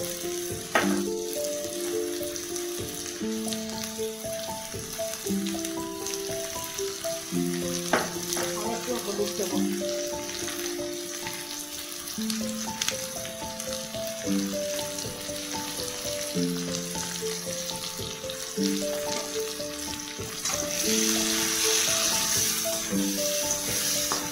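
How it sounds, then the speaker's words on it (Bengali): Cut potatoes fry in oil for a cabbage curry, a strong continuous sizzle with occasional stirring, heard close and loud over melodic background music, with no speech. "আমি ওই তেলেই এই আলুগুলোকে একটু ভেজে নেব।"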